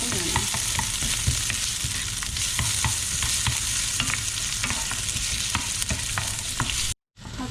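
Ginger and garlic stir-fry in hot cooking oil, giving a constant close sizzle dotted with stirring scrapes, before a brief drop to silence near the end.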